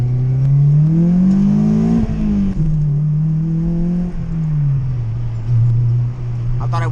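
An Acura RSX with an HKS Hi-Power exhaust pulls hard on a late-night drive, its engine note climbing, dipping and climbing again in a loud, raspy drone heard from inside the car.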